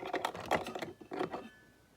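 Paper for a handmade sympathy card being cut, with a quick run of crisp, close snipping clicks in two short bursts, then quiet.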